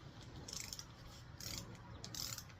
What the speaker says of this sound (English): So I set my torque wrench up to 40. So we'll get this one first